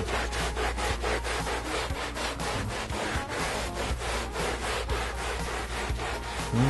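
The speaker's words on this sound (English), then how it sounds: "use a clean microfiber to gently wipe or blot this out" Microfiber cloth rubbed across a car's interior upholstery during detailing: quick, even back-and-forth scrubbing strokes repeat steadily and close up, with no voices.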